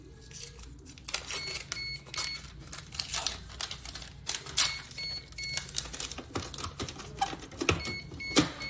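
A POS receipt printer runs a test print at close range, giving a quiet run of fast clattering, rattling printing bursts with short pauses between them over a low hum. No voices.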